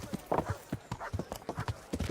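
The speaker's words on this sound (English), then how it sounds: "It's my horse." A horse's hooves clip-clop at a walking pace in the medieval video game Kingdom Come: Deliverance, a steady rhythm of a dozen or so crisp, close hoofbeats with no talk over them.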